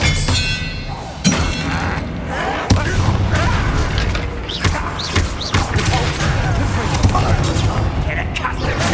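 Hogwarts Legacy spellcasting, including the Expelliarmus disarming spell, heard as a string of sharp booms, crashes and shattering impacts amid steady combat noise, with a voice calling out over it.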